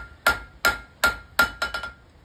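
Blacksmith's hammer striking a knife blade on an anvil, drawing it out thinner: seven sharp ringing blows close by, evenly paced at first, then quicker at the end.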